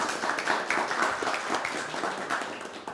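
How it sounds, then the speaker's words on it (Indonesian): Steady applause from a crowd, many hands clapping together in a continuous patter that stays fairly even throughout. "beri tepuk tangan yang meriah dong"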